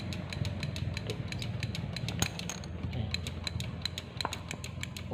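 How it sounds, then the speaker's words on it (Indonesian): A starter relay on a Honda Vario 125 LED motorcycle clicks rapidly and repeatedly while the engine fails to crank, a dense run of sharp ticks over a faint low mechanical hum. "di relaynya bunyi cetik-cetik."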